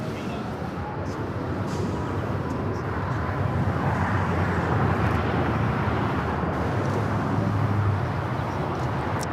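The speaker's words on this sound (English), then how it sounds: "A United Dreamliner just touching down here on 25 left." A United Boeing Dreamliner airliner touches down at LAX, its jet engine roar a broad, steady rumble that swells slightly midway and stays loud throughout, with traffic-like background noise.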